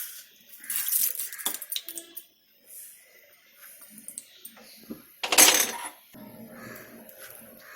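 Fenugreek seeds tipped into hot sesame oil in a clay pot, giving light scattered clinks and pattering crackles with one louder burst of sizzling clatter midway, close by and without talk.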